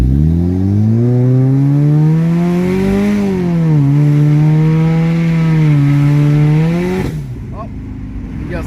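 A Chevy Cruze fitted with a Fueltech 450 revs hard in automatic mode, its engine note climbing and dipping steadily for about seven seconds before an abrupt drop as the gearbox shifts, loud and close.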